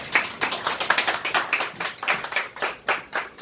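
A church congregation claps after a sermon, producing a moderate, slightly rhythmic patter of hand claps from a modest crowd in a room.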